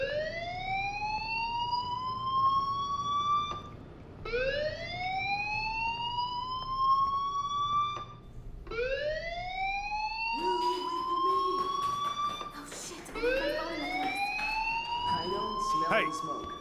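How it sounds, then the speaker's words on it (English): A fire alarm in the video game Life is Strange Remastered wails in repeated rising sweeps, each lasting about four seconds, loud and electronic, while other game sounds clatter beneath the later cycles. "Hey, do you hear that fire alarm?"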